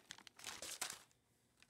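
Packing paper inside the box for a Lionel model locomotive crinkles and rustles as it is pulled out, in quick close bursts that fade into quiet.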